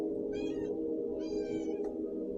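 A cat meows twice, two short, clear, fairly close calls above a steady low background hum.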